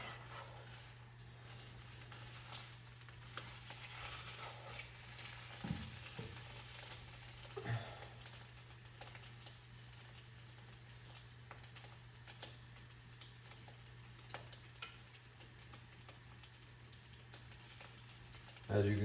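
Food sizzles steadily in a pan as a spatula stirs and scrapes it, a low continuous frying hiss with occasional clacks, while a person talks over it at moderate distance.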